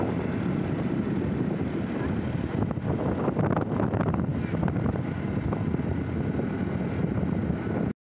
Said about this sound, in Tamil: அப்படியே பீச் பக்கமாக போனதுனால நல்ல குளிர்ந்த காற்றும் அடிச்சுது